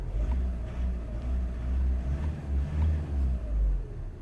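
A VW Golf 1.6 TDI diesel engine rumbles low and steady, rising in a few swells as the throttle is pressed, a deep continuous drone with no voices.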